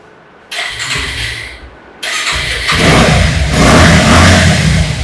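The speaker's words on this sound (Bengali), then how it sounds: "ইঞ্জিনের সাউন্ডটা শোনাই দিই" A used motorcycle engine, about 3,000 km on it, fires up and runs steadily, a loud, close mechanical rumble that grows louder and rougher as it revs.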